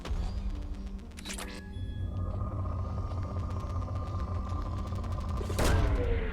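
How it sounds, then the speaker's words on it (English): Planet probe launching in Mass Effect 2: a sharp mechanical burst, then a sustained humming drone as the probe flies, ending in a loud impact burst near the close. "Probe away. Probe launched."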